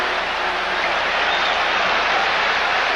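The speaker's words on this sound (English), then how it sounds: "And the crowd is churned up here" A packed basketball arena crowd in Philadelphia roars during an NBA Finals game, a thick, unbroken wall of cheering and clapping that holds loud and steady throughout, with no distinct voices standing out.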